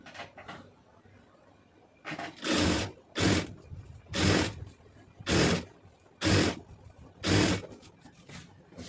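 Sewing machine stitching a lace lining onto a round neckline, running in six short bursts of whirring separated by brief pauses, close and fairly loud with quiet handling between runs.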